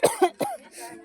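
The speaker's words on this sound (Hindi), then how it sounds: "खांसी आओ भैया" A person coughs three times in quick succession, close and loud, followed by a softer breathy exhale.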